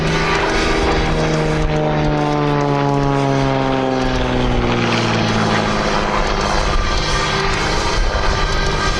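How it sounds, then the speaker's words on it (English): An XA41 (S-Bac 300), a German single-seat aerobatic aircraft, passes with a loud, continuous propeller-engine drone whose pitch slides downward as it moves by, steady and close with no talking. "XA41, also known as the S-Bac 300, is a highly advanced German single-seat aerobatic aircraft designed by Philipp Steinbach"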